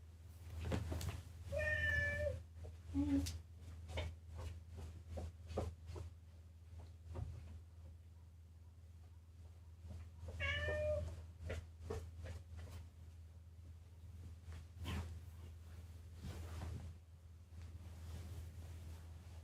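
A cat meows twice, a few seconds apart, over a steady low rumble of wind-like noise with scattered clicks and taps.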